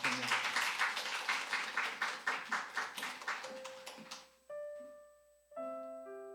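A church congregation at a Sunday worship service applauds with rhythmic, evenly spaced claps that gradually fade, giving way to sustained keyboard chords.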